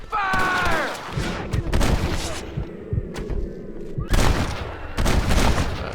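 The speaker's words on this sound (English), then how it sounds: "Open fire!" Rapid bursts of gunfire in the Western video game Red Dead Redemption: a loud, dense volley of overlapping shots and booms that pauses briefly, then erupts again, with a short voice at the start.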